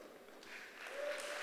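Applause from a church congregation at a service swells briefly, a dense patter of many hands heard at moderate distance in a large room.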